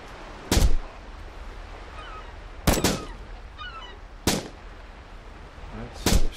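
Sniper rifle shots in Jagged Alliance Back in Action, four sharp loud cracks spaced roughly a second and a half apart over quiet game ambience.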